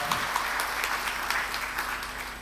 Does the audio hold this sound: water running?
no